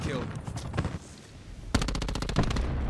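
In Black Ops 4, a SAUG 9mm submachine gun fires in close-range combat: a short burst early, then a rapid, loud stream of evenly spaced shots in the second half, with voices in the background.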